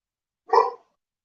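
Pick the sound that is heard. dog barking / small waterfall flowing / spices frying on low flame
dog barking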